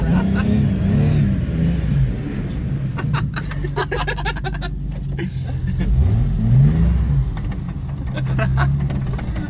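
A car revs and drifts through a left-hander on a drift-learning outing, engine rising and falling over tire scrub, with passengers talking and laughing close inside the cabin.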